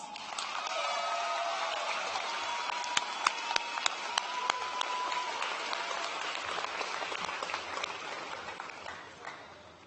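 A high school graduation crowd in a large hall keeps up a steady wash of applause, with a few sharper claps and whoops standing out nearby.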